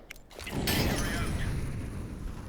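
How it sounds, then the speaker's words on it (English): An incendiary grenade lands in the video game Counter-Strike 2, giving a short sharp impact and then a loud broad whooshing burst of flame that roars steadily and slowly eases. "Incendiary out."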